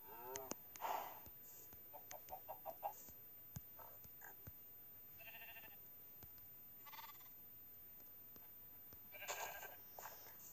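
Farm animals in a house-building video game: chickens, cows, pigs and sheep call out in short scattered bleats and clucks, a quick string of small calls early on, then isolated cries spread apart over a quiet background.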